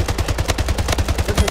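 Rapid gunfire in the video game Splitgate, a fast steady burst of about a dozen shots in even rhythm, loud and close, with no talk over it.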